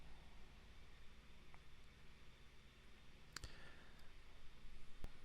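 A computer mouse clicks a handful of times at scattered moments, sharp and close, in a quiet room with a low electrical hum.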